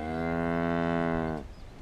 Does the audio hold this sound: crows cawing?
no